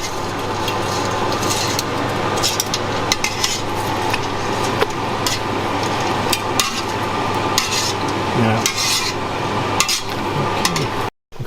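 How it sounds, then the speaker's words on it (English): A metal utensil clinks and scrapes against a pot as spaghetti is stirred in boiling water, steady rapid clattering with occasional louder knocks, close and continuous throughout. "do from time to time mix the pasta when cooking pasta"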